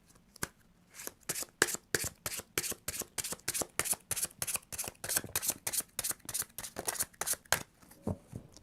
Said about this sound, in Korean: 이번 분들 자신의 카드를 키퍼 카드 2장으로 한번 뽑아 보겠습니다.